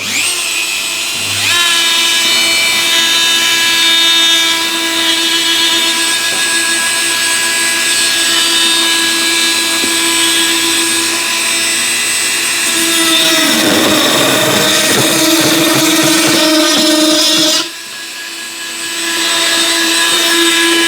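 A Dremel spinning flame burrs at 25,000 RPM while carving lines into cedar, a loud steady high-pitched whine with strong tonal overtones that roughens and grinds as the bit bites into the wood, then drops briefly and resumes.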